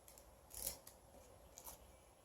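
Scissors snip through arrow feathers being trimmed for primitive arrows, two short quiet cuts heard close up against a faint background hiss.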